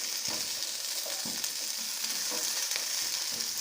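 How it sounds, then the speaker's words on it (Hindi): Chicken with capsicum (shimla mirch) fries in a spoonful or two of oil. A steady, close hiss of sizzling runs throughout, with occasional soft knocks of stirring and no voices. "बस ये हमारी फ्राई हो रही है।"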